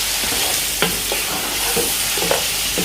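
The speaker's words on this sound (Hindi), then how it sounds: "अब इसको अच्छे से जो है ना भूनना है, ठीक है।" Shan biryani masala frying in a pot for chicken biryani, with a loud continuous sizzle and a few spoon scrapes and taps as it is stirred.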